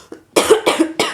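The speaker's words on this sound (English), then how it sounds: "every episode I choke or cough" A person coughs three times in quick succession, close and loud, the harsh bursts spaced a few tenths of a second apart with no talking.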